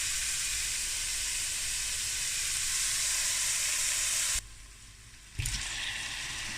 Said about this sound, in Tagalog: I-fry ko muna.